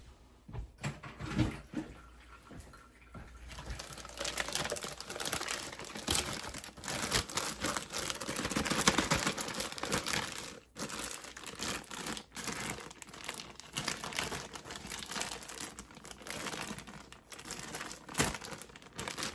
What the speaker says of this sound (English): just throw that in a bag. You're gonna squish it all right down in the corner